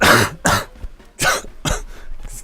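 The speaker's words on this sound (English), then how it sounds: "I couldn't stop myself from just coughing everywhere." A person coughs in a rapid series of harsh, loud bursts, four or five close coughs with short gaps between them and a throat-clearing quality, with no talking.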